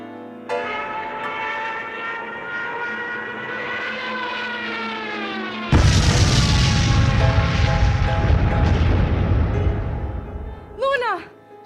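Bombs going off in a staged theater production, a sudden loud, broadband blast that bursts in mid-clip over a sustained tonal musical bed and rumbles on for several seconds before fading.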